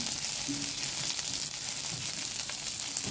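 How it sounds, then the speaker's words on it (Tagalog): Steady sizzling of onion and garlic sautéing in hot oil, a constant crackling hiss close by with no talking. "habang nagigisa tayo ng onion at bawang,"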